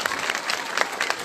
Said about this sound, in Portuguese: uma salva de palmas então,